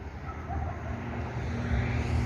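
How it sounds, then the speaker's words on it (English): Cars passing on a nearby road beside an abandoned construction site, a steady low rumble of traffic close by that swells slightly toward the end, with no talk. "Sorry for the cars driving past us."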